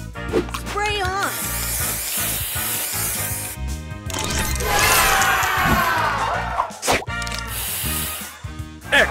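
Spray effect from the Color Crush match-three mobile game, a bright hissing burst over busy game music and chimes, with repeated announcer-style voice callouts layered throughout.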